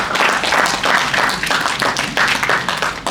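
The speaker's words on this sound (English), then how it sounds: "A huge round of applause." A conference audience on an energy-efficient cold chain topic applauds, a brief burst of uneven rhythmic clapping with fluctuating intensity, fairly close and moderately loud.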